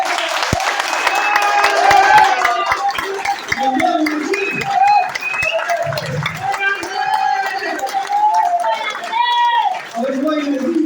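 An audience at a meeting claps in scattered bursts, crowd chatter and voices mixing in close and loud throughout.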